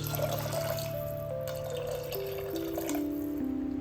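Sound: water poured into a pot of cowpeas for cooking

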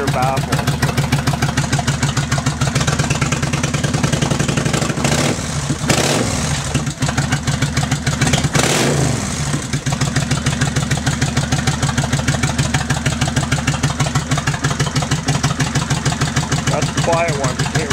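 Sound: 2004 Kawasaki Vulcan 1500 motorcycle idling with Vance & Hines exhaust

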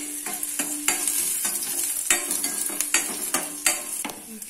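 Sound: chopped ginger sautéing in hot oil

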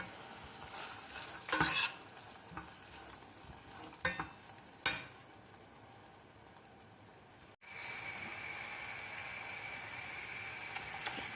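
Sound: green lentils being sautéed and stirred in a pot

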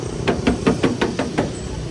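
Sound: knocking on pickup truck body

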